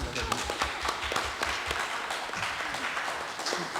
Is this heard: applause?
yes